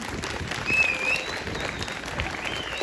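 Audience applause at a carnival theatre performance in Stypsi, with steady clapping that swells briefly near the start and then holds at an even level.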